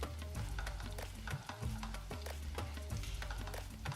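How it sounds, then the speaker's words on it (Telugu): Coconut pieces frying in ghee for sweet chakkara pongal, a steady close sizzle with scattered crackles and occasional stirring clinks, no talk. "నెక్స్ట్ మనం కొబ్బరి ముక్కలు వేయించేసుకుందాం"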